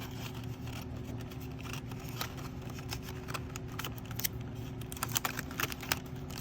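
Adhesive tape is pressed and smoothed onto a paper orb, producing close, scratchy rubbing and crinkling with small clicks over a low steady hum, busier toward the end.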